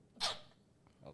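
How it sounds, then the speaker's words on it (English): One sudden, close sneeze bursts out, loud and breathy, then fades into quiet with a slight trailing breath. "My first time sneezing on air."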